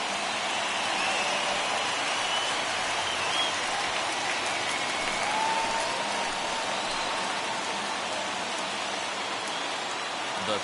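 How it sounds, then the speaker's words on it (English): Video game stadium crowd in MLB The Show 21 during a late-inning rally, a steady, dense roar of cheering and applause that sounds almost like rain, continuous and loud for the whole stretch with no talk over it. "listen to this crowd now. They are really into this."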